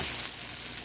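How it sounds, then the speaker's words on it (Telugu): Pesara dosa, a green gram crepe, sizzling steadily on a hot pan around the moment it is flipped, a continuous close hiss with no distinct flip sound standing out. "ఇలా వచ్చేసింది కదా, మనం దీన్ని ఫ్లిప్ చేసేద్దాం."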